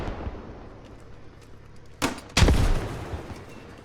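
Grenade launcher firing in the Squad video game: two sharp broadband blasts in close succession, the second louder and fuller with a low thump and a short decaying tail, over quiet background.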